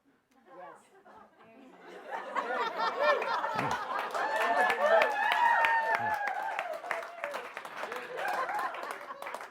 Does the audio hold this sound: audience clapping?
yes